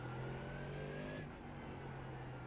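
Ford Mustang GT3 race car in iRacing at Miami International, engine revving hard as it picks back up on the throttle through a curb, a loud steady mid-pitched roar with a rising tone that cuts off abruptly at the end.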